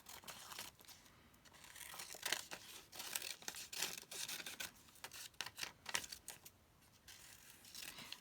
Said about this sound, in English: I might cut the excess off with my bigger scissors first.